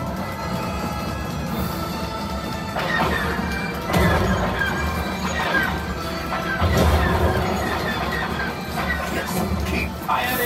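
Blaster fire and crashing impact effects on the Millennium Falcon: Smugglers Run ride at Disneyland, a dense, loud barrage of bangs and smashes layered over a continuous rumbling motion soundtrack, with excited voices calling out over it.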